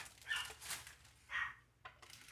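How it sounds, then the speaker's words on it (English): A small nervous dog barks indoors during glitter epoxy tumbler work, several short yips and barks in bursts, faint and somewhat distant, with no talking. "you can hear my little dog barking"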